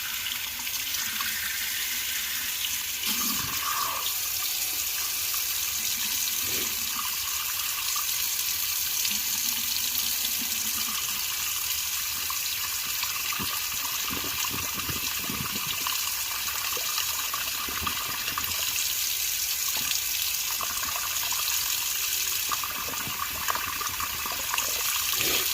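Hot water running and trickling steadily from a tap into a sink, used to soften a plastic part, a continuous watery wash with small splashes throughout and no talk.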